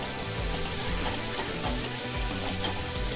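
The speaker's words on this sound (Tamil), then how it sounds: "இந்த அளவுக்கு நல்லா வதங்கினா போதும். நல்லா வதங்கிடுச்சு" Chopped onions sauté in a pan, giving a steady, close sizzle and crackle that runs without pause and with no talking.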